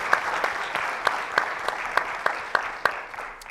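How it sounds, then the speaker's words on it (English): A conference audience at a game developers event applauds steadily, a dense wash of clapping with a few sharper claps standing out, heard alone without speech. "can we give all of them a round of applause, please?"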